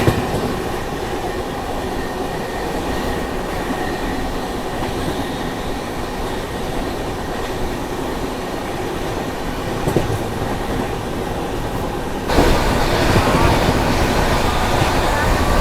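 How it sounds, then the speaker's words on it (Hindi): The Chhattisgarh Express (18237) runs at speed near Agra Cantt, giving a steady, close rumble and rattle of wheels on track that grows rougher and louder near the end. "छत्तीसगढ़ एक्सप्रेस।"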